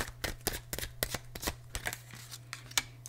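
Rapid crisp riffling and slapping of cards being shuffled, in repeated short bursts, close up, with no talking.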